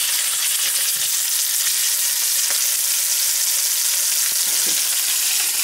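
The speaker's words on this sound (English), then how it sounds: "once the oil has heated, then we can start to add the steak pieces carefully." Steak pieces sizzle and fry steadily in hot oil in a pan for a keto Italian stew, a continuous loud hiss with occasional pops and crackles.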